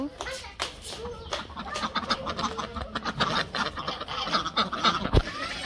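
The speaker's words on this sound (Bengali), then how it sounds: "হাঁস মুরগি বাড়িতে এসে পড়ছি হাঁসের খাওয়ান দিব" Ducks quack and chickens cluck in a busy Bangladeshi village yard at dusk, with scattered flapping and pecking sounds nearby and some background voices.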